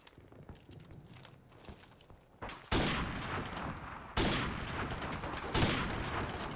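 Shotgun fire in the Modern Warfare Remastered video game, a few sharp, loud blasts with short decaying tails separated by quieter stretches, heard alone.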